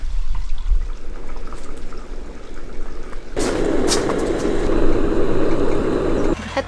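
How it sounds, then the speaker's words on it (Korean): Stream water pours and rushes steadily nearby at a campsite, growing louder partway through and continuing as a constant splashing flow. "여기 앞에 물 흐르는 소리가 들려가지고"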